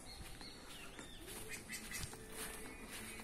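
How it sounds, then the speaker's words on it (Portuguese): Birds chirp and call around a rural country property with a pool and fruit trees, a busy scattered chorus of small tweets and flutters at moderate distance, steady throughout with no talking. "Você tá gravando um vídeo e os pássaros não param"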